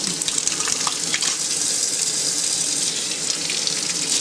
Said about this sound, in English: Takes a long time to get some hot water up there.